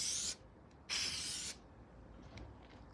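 Two short bursts of spray adhesive hiss close by, the first brief and the second longer, followed by faint rustling, while fitting a new fuel tank to a Mercedes R107 SL.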